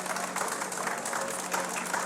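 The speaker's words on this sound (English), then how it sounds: "Big applause." Dense audience applause at a live radio show event, a continuous wash of many hands clapping at steady loudness, slightly distant, with a faint hum underneath.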